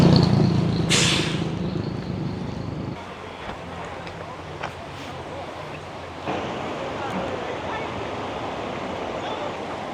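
The Yuna river flowing near Bonao in the Dominican Republic, a steady broadband rush of water heard close, with a burst of louder noise and low rumble early on that then settles into a constant wash.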